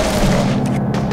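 Pistol fire in Serious Sam 3: BFE, a dense run of booming shots blending into a continuous roar, loud and close, with no talk.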